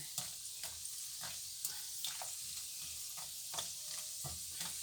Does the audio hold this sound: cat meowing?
no